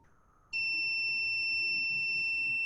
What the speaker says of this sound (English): You can hear the buzzer?